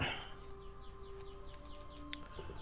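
Small birds chirping outdoors during a game session, short faint tweets repeating over a steady background hum.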